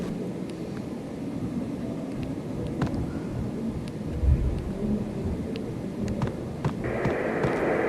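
A thunderstorm in the video game Silent Hill 4 gives a steady rain-like rumble with a low thunder roll near the middle, then a faint electronic hum toward the end.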